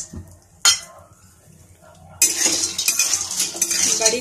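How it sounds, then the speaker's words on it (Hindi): Dried moong dal badi drop into hot oil in a pan. After a quiet stretch with a single clatter of the utensil, a loud, bright sizzle bursts out and holds, broken by scraping stirs against the pan. "तेल मेरा गर्म हो रहा है, अब मैं इसमें बड़ी डाल दे रही हूँ।"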